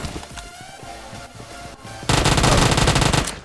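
Rapid automatic gunfire from UMP and Vector submachine guns in a mobile battle-royale shooter, with scattered distant shots giving way to a loud, dense, sustained close-range burst for the final second and a half.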